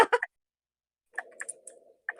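Quick clusters of keyboard clicks tap out close by, with a short burst at the start, a looser run of softer keystrokes in the middle and a few more clicks at the end, separated by silence.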